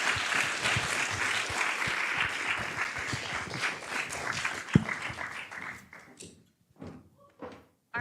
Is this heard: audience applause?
yes